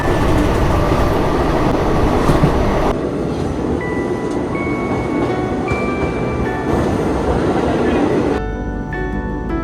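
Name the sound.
train running past Gwalior railway station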